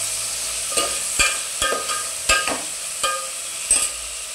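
Vegetables are stir-fried in a pan for an Indo-Chinese dish, with a soft sizzle under repeated sharp scrapes and clanks of the spatula against the metal at an irregular rhythm, close and with no talk.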